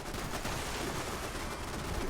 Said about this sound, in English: Figure out what's shooting me